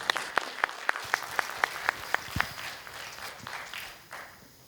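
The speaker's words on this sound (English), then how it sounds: "welcoming Mr. Anup Kalawat with a big round of applause" Applause greets a guest speaker at a Union Budget 2023-24 discussion at Adani University, starting with a string of sharp, evenly spaced claps that merge into a steady wash of room applause before fading out.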